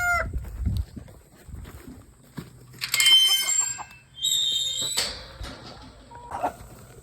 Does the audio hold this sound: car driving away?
no